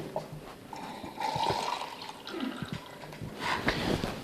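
Water splashes and trickles in short, quiet bursts, poured in small amounts into minced meat for homemade sausage, with faint handling noises between.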